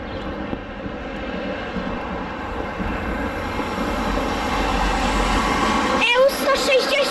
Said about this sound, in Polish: Jesteśmy na stacji Wrocław-Mikołajów i jedzie pociąg Intercity Kossak.